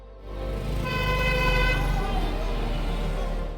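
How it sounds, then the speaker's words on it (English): A vehicle horn blares in heavy Dhaka street traffic at evening rush hour, a loud sustained honk rising over the low rumble of engines, with other traffic noise continuing around it. "The horns grow louder."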